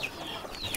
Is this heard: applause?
no